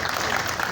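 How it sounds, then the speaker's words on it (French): Brief burst of audience applause at a gathering, a dense steady patter of clapping lasting under a second. "Applaudissements s'il vous plaît"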